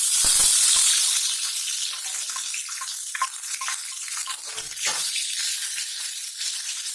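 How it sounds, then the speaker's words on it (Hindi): Chole masala paste of cumin, asafoetida and bay leaf fries in a pan on medium heat, with a loud, steady broadband sizzle that flares at the start and then settles into a continuous hiss with light stirring scrapes. "इसे हम भून लेंगे मीडियम आंच पे"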